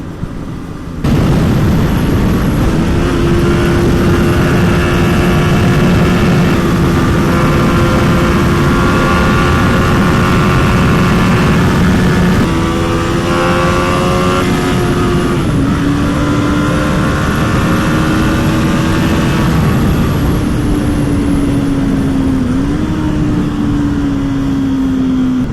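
BMW G 310 R roadster motorcycle engine heard onboard while riding, a loud steady drone whose pitch rises and falls through gear changes, with wind rush throughout and no talking.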